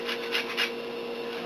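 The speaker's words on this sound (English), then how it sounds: "we're going to zest our lime in." A lime being zested with a handheld zester for a jackfruit salad, giving a few soft, close scraping rasps in quick succession over a faint steady background hum.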